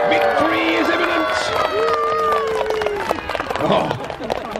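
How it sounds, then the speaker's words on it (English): Spectators at a Battle of Hastings re-enactment cheer and shout in a loud, continuous crowd roar, with a commentator's voice and other voices mixed through it. "Give them a cheer again."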